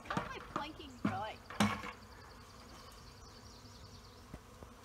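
A bee swarm buzzes in the background during a capture, a low steady drone beneath bursts of nearby talking early on, then a quieter hum with a faint knock near the end.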